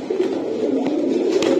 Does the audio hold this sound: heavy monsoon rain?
no